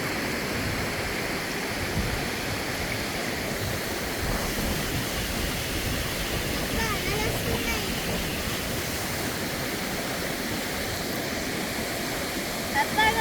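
Steady, loud rushing of river water pouring over a low check dam near Edupayala Kanakadurga temple, a continuous broadband roar with no pauses.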